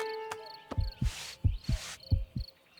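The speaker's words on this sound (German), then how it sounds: "Starkes Herzklopfen" Strong, steady cartoon heartbeat as heard through a stethoscope, six low thumps in regular lub-dub pairs, loud and close, with brief bursts of hiss and light tones between beats and no talking.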